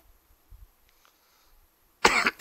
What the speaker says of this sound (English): If you guys hear me cough, I apologize ahead of time.